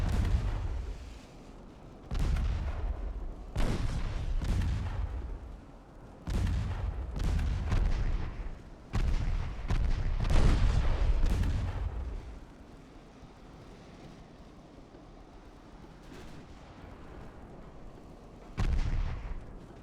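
Torpedoes launch in a naval battle video game set in an 1897 Ottoman campaign: a close series of deep, heavy booms, some quickly following one another, then a lull before one final thud.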